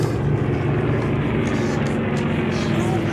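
Airplane engine noise in a Band of Brothers war scene, a loud continuous droning rumble that holds steady throughout, with people talking over it.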